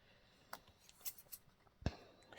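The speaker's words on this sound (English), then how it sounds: "Let's just trim it down some more." Quiet, close snips of scissors trimming a composition book cover, a few light cuts ending in one sharper snap.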